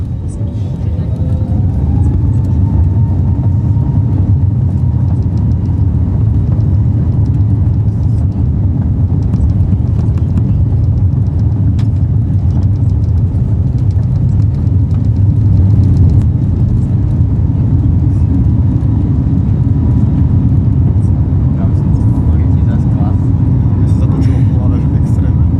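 A Pegasus Airbus A321neo taxis and takes off, a loud continuous cabin roar of engines and rushing air that holds steady, with a faint rising whine early on.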